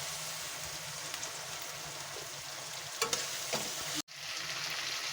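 Cluster beans frying with green chillies in a pan for a spicy village-style dish, a steady close sizzle throughout with a couple of brief stirring clatters and a short gap near the end.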